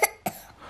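A child gives two short, close coughs a quarter second apart while playing at being examined with a stethoscope, and the room is quiet afterward.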